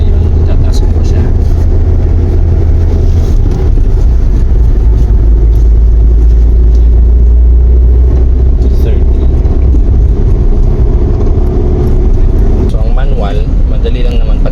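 Manual transmission car driven on the road and shifted from second toward third gear, a loud steady low engine drone filling the cabin with slight pitch change, someone talking over it throughout.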